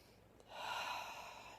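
Slow, calm breathing, a single soft broadband inhale that swells and then fades, heard alone and fairly close in a quiet room.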